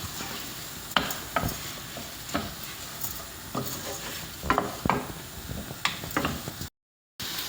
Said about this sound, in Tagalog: Ayan, ilagay na natin yung ating kanin. Ikot lang